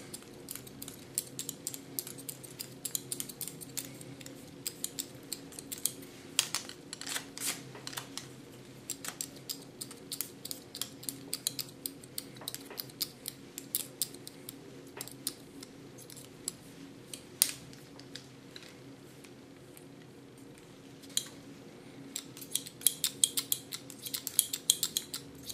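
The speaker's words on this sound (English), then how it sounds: "even with my big and large Kiona scissor, I can cut ultra short" Large Kiona scissors snip hair ultra short in a salon, giving faint, irregular crisp clicks and metallic snips over a quiet steady background hum.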